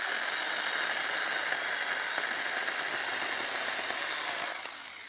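A small Saker battery-powered mini chainsaw runs steadily, a fairly quiet, even electric whine with a faint rattling chain buzz, continuous at close range and easing off slightly at the end.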